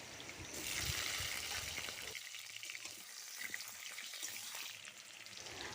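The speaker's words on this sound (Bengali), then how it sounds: "আলুগুলোকে আমি ভালো করে ভেজে নেব" Large-cut potatoes frying in mustard oil, a steady sizzle crackling close up, a dense hiss with a brief stirring scrape at the start, no voices.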